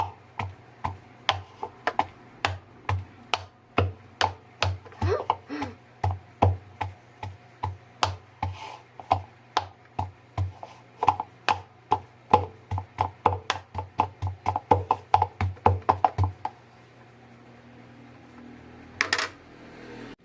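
Ripe bananas being pounded for nilupak in a small mortar and pestle, a steady series of close, sharp wooden thuds, roughly two per second for about sixteen seconds, then a brief pause and a single later knock.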